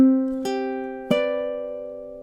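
A ukulele plays a short song passage for a seasoned beginner, with a few plucked notes and strums ringing out and decaying, clear and close with no voices.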